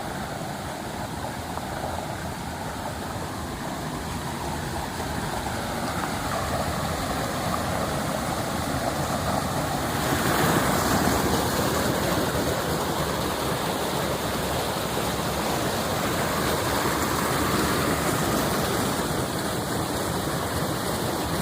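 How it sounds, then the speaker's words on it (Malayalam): A small stream runs strongly through cardamom country, its dense, continuous rushing steady and close, growing a little fuller midway and holding with no voices over it. "നല്ല ശക്തിയായിട്ട് വെള്ളം ഒഴുകുന്ന ഒരു തോട"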